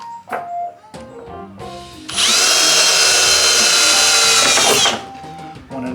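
A cordless power drill bores a hole in a wooden crosscut jig for a tablesaw, a loud, close, high-pitched whine lasting about three seconds, with lighter handling clicks and knocks before and after.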